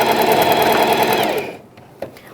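A sewing machine runs in one steady burst while backstitching a seam on a pet bandana, a fast even whir that stops after about a second and a half, followed by a single soft click.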